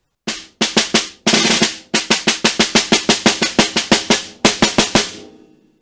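Snare drum plays line 12 of an etude from Portraits in Rhythm Etude #10, a fast run of crisp, sharply articulated strokes and accented hits including a short buzzed roll, close and dry, no voices.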